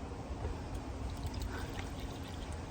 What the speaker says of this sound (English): I'm getting ready to give my dog some ice water.